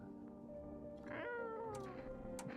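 A cat meows once in a video game, a short drawn-out mew that rises and falls, with a faint ambient game backdrop and no talking.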